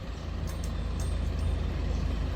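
Road traffic noise from passing cars and heavy vehicles, a continuous low rumble with a steady engine drone and faint hissing, close and fairly loud with no speech.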